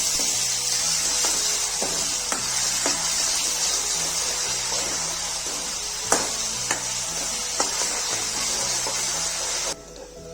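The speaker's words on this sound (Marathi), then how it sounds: "किसून घेतलेला कांदा टाकूया हे सर्व चांगलं परतून घेऊ" Grated onion sautés in a hot pan with a steady, loud hiss of frying, broken by repeated scraping stir strokes, until the sizzle cuts off near the end.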